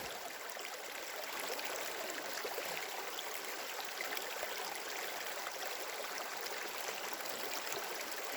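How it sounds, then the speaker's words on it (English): Water rushes and trickles steadily, a dense continuous flowing sound close by with no voices. "the water is flowing down into my bag through the top of the bandana"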